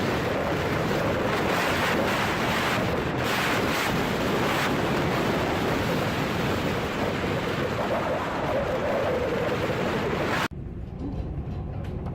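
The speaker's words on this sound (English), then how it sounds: "Aurora Australis in a fully developed Force 9 gale on her way to Antarctica." The ship Aurora Australis rides through a Force 9 gale bound for Antarctica, with loud, continuous roaring wind buffeting the microphone and crashing waves, cutting off abruptly near the end.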